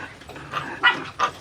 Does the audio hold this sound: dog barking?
yes